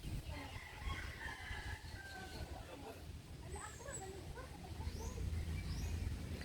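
A rooster crows in the provincial countryside by the sea, with chicken clucks and other birdsong mixed into steady outdoor ambience, moderately distant and fairly faint, while a person talks faintly in the background.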